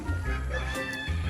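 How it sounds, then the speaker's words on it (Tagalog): Chickens on a farm cluck in a short burst of close, throaty calls against a busy outdoor background. "Yung mga manok, no?"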